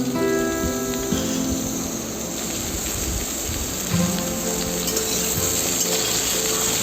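Potato and pumpkin pieces fry in ghee and oil for holiday khichuri, a loud continuous sizzle and crackle close by, with occasional stirring scrapes.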